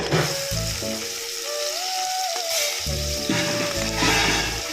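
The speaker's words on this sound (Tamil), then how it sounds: "இப்போ நம்ம இது வந்து ஆனியன் சேர்த்துக்கலாம் இதில்" Onions go into hot oil with green chillies for a spicy Tamil egg curry and sizzle loudly and continuously up close, with a tonal melody running underneath.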